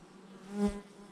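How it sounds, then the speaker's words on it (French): Honeybees buzz close by at an open hive, one bee's hum swelling and fading within about a second over a soft background drone. "Les abeilles sont belles."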